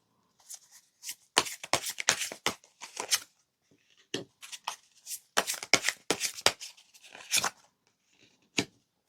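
Tarot cards shuffled and drawn by hand, a run of crisp riffling bursts and slaps in quick clusters with short pauses between, close and fairly loud in a quiet room.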